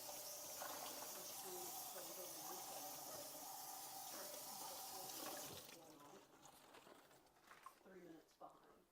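Water running steadily from a tap as a terrarium is planted, a loud continuous hiss for about five seconds that then cuts off, leaving quieter handling noises and faint voices.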